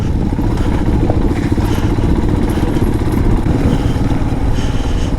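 A Himalayan 411 motorcycle rides a wet, slippery green lane, its engine a steady, loud mid-pitched drone with rattling clatter close by throughout.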